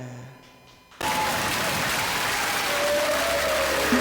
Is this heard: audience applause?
yes